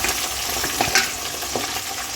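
Capsicum and chillies fry in hot oil with a steady, dense sizzle throughout, close and loud, with a few faint stirring clicks and no voices.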